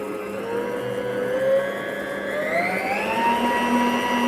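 A YASHE 1500W stand mixer motor runs at top speed, a steady whirring whine that rises slightly in pitch and holds loud and close throughout, with no talking.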